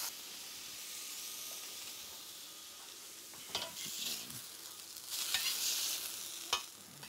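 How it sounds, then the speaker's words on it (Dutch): Fresh fish fillets fry skin-side down on a hot restaurant griddle plate, a soft steady sizzle with a few louder bursts of spitting and scraping, fairly quiet throughout. "We gaan die op een plaat bakken hier, maar je kunt dat perfect thuis ook in een pan bakken."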